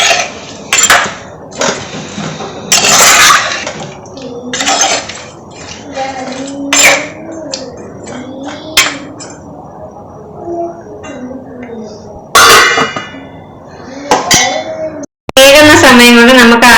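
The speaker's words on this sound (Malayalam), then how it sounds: "ഒന്ന് ഇളക്കിയതിന് ശേഷം നമുക്ക് അടച്ചു വെച്ച് വേവിക്കാം" A curry pot of Kerala-style astram being stirred, with clinks and clangs of a ladle against the metal pot and a lid set on top, sounding in bursts close by amid kitchen clatter and some voices.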